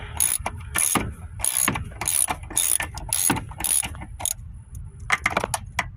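A socket wrench ratchets in quick bursts of sharp clicking while bolts come off the air intake of a Chevy Tahoe, loud and close with brief pauses between runs.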